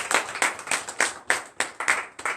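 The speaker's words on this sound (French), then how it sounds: "Donnez l'acclamation à Christ." A congregation at a morning prayer service in Benin claps in a quick, uneven rhythm of about nine sharp hand claps, close and moderately loud with no voices.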